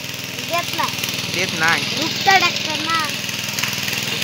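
A tractor engine idles and runs steadily at a paddy field being ploughed in Konkan, a constant low rumble under close conversation between people throughout.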